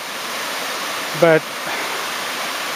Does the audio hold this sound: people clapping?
no